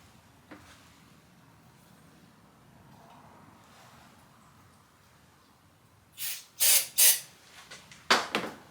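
A quiet stretch, then several short, loud bursts of starting fluid aerosol spray hissing close by on a Wheelman Bushpig motorized skateboard, separated by brief pauses.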